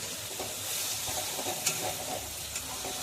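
Spice paste sizzles steadily in hot oil for a fish and potato curry, with repeated scraping stir strokes breaking through the close, continuous frying hiss.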